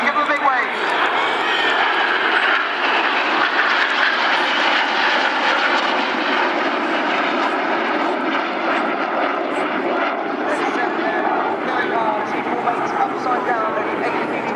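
Red Arrows jet aircraft performing a formation display at the 2013 Swansea Airshow, a steady loud engine roar sustained throughout while a commentator talks over it.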